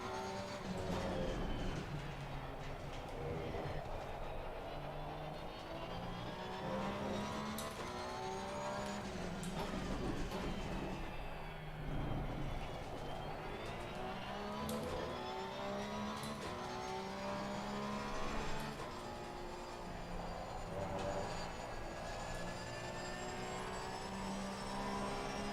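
Porsche race car engine in a racing video game at the LFM Iron license level, droning steadily through the whole stretch with rising and falling pitch sweeps as it revs through gears, loud and continuous, no talking.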